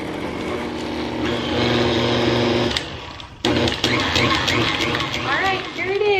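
A stand mixer with a paddle attachment runs at a steady motorised hum while milk goes into muffin batter, briefly dropping off and then restarting with a clattering, uneven churn as a voice talks over it.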